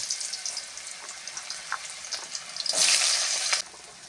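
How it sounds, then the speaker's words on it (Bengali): Mixed vegetables (potato, eggplant, flat beans, carrot, peas) and spinach fry in oil with dried chilli and nigella seeds, giving a close, steady sizzle with scattered crackles and a louder hissing burst toward the end. "সব রকম সবজি দিয়ে পালং শাকটা ভাজা হবে"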